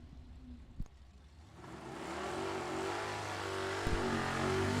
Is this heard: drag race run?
yes